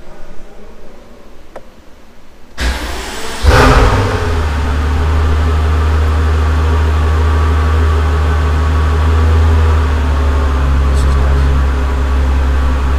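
A Pagani Huayra Roadster hypercar's engine cranks and fires after a quiet start, catching with a loud burst before settling into a steady, deep, rumbling idle that carries on to the end.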